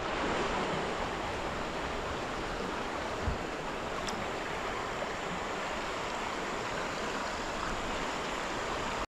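Water in a trout stream rushes steadily over shallow riffles, a dense, continuous broadband wash heard close, with no talk over it.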